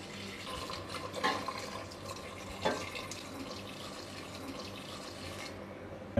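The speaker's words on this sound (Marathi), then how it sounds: "आता त्यामध्ये ना आपण उकळतं पाणी घालूया" Hot boiling water is poured into a pot of Koli-style mutton curry, a steady liquid splash and trickle with a couple of louder gushes, close by.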